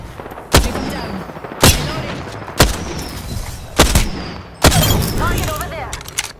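Gunshots in a video game, five sharp loud blasts spaced roughly a second apart, each trailing into echoing reverberation, with voices talking between them.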